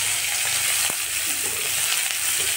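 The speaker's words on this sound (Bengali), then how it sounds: "আলুগুলো দিয়ে দিলাম, এটাকে আমি ভাজা করবো" Small cut potatoes with turmeric sizzle and crackle steadily in a hot pan, a close, even frying hiss with light stirring noises and no talking.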